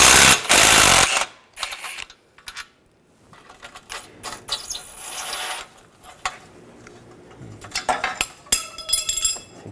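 Loose screws clink and rasp against metal while being backed out on a 2009–2010 BMW 535i xDrive transmission pan, a few sharp metallic taps and scrapes, close by, with no talking.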